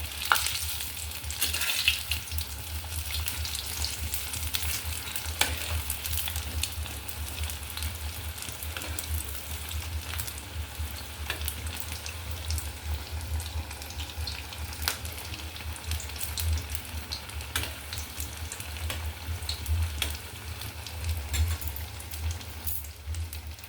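Chili fritters (lankar bora) deep frying in hot oil, a dense continuous bubbling sizzle held close and steady throughout with faint crackles, no talking.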